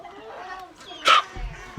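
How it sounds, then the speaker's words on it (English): Polish hens give one short, loud cluck-like call that stands out over a quiet farmyard background, with faint low thumps afterward. "3 beautiful Polish hens"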